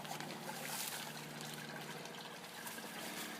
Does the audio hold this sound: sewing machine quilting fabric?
no